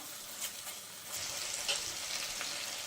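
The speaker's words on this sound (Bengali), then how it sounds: "মশলাগুলো আমি খুব ভালোভাবে কষিয়ে নেব" Spice masala for a prawn curry is sautéed in a pan, a steady close hiss and sizzle with light scraping stir strokes, heard alone without any talking.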